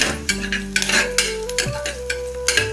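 Cashews frying in a pan for ven pongal are stirred with a utensil, giving repeated scraping and clinking strokes over a steady sizzle, close and fairly loud.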